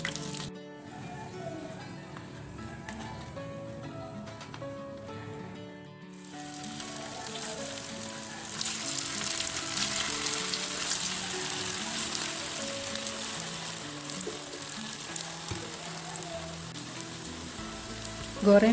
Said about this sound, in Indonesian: Goreng sampai semua kentang hash brown habis.